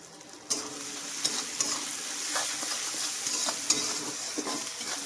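Onion and garlic frying in a pan for mutton curry, a steady oily sizzle broken by several sharp scrapes and knocks of a spatula stirring against the pan, close and without talk.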